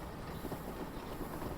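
A train rolls along in the TrainSim game, a continuous low rumbling drone with a steady wheel rhythm and no voices.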